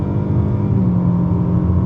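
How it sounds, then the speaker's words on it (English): A 2023 Nissan Altima with a CVT at full throttle gives off a steady, droning engine note that stays level and close, with no talking. "let's put this CVT to the test"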